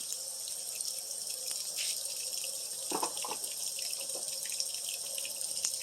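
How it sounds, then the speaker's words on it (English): Water runs steadily from a tap into a washing machine being loaded for a delicate warm wash, a soft constant hiss with a few faint clinks and knocks mixed in. "The water will start running."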